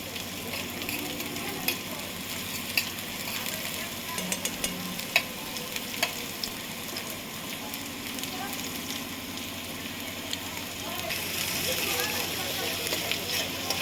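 Crushed garlic sizzles in hot oil while being sautéed for a Gujarati horse gram (kulthi) dish, a moderate steady frying hiss with scattered stirring clicks, heard under people talking in a home kitchen.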